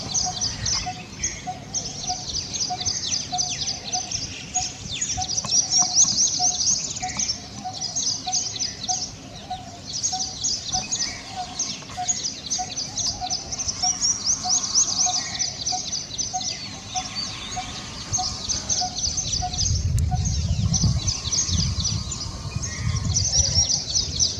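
Coppersmith barbet calling at midday around trees, a steady repeated note over dense chirping birdsong and insect-like background, continuous and moderately loud.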